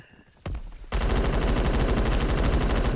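AK-47 automatic fire in the shooter game Phantom Forces: a single shot, then a loud, sustained rapid stream of rounds continuing without pause.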